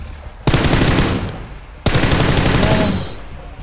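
Two loud, close bursts of automatic gunfire from the battle royale game PUBG Lite, each a dense rapid rattle lasting over a second, separated by a short pause.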